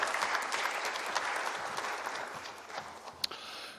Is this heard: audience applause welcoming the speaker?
yes